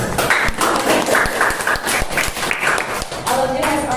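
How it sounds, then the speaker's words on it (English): A small group claps at a student English debate, with sharp, fairly regular hand claps and some voices mixed in during a short burst of applause. "I would like to give applause for others."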